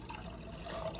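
Liquid pours steadily into a container at home, a soft continuous watery splash and trickle that stays even and fairly quiet throughout, with no voices.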